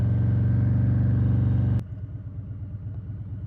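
A 2020 Harley-Davidson Low Rider S V-twin thunders loudly at close range, then the throttle snaps shut and the engine drops to a lower, lumpier rumble that carries on alone.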